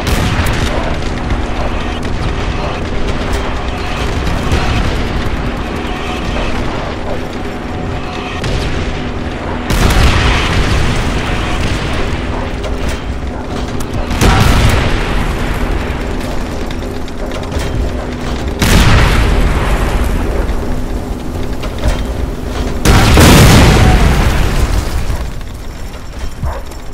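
Artillery shells burst in a Call of Duty: World at War team deathmatch, with heavy booms rising out of a constant rumbling battle bed, the loudest blasts landing around the middle and near the end.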